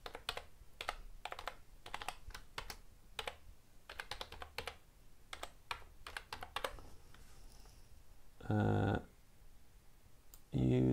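Someone types an email address on a computer keyboard, a close run of quick, uneven key taps in bursts, followed by a short loud buzz and another sharp sound at the end.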